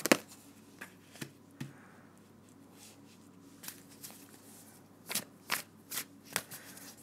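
Playing cards being shuffled and drawn for a card reading, a few sharp riffles and snaps spaced unevenly, with brisk clustered flicks near the end, close and quiet in an otherwise still room.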